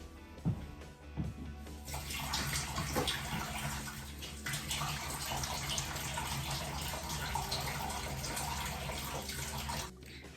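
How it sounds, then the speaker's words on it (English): Hands being washed under a running kitchen tap, a steady close rush of water that starts after a few faint knocks and splashes and runs until it cuts off near the end. "I'm going to wash my hands."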